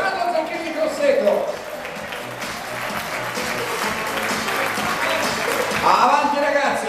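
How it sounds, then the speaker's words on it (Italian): Steady applause from a large crowd in the stands of the Stadio Olimpico at a decathlon 1500m race, with voices and distant crowd noise mixed in throughout. "gli applausi della tribuna dello Stadio Olimpico"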